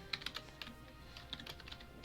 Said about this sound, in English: And then you type in a password.